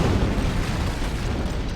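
A loud, sustained roar fills the whole span, a deep rumbling blast from an antimatter charge in the video game Halo 3, dense and unbroken with no separate hits.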